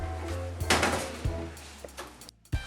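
Sausages and potatoes chucked into a wok give a run of close metallic clanks, knocks and soft thuds, irregularly spaced with brief pauses between them.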